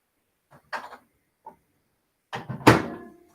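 A couple of soft clicks and bumps, then a louder clunk with a brief rattle as a microwave door shuts close by.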